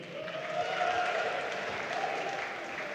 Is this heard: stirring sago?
no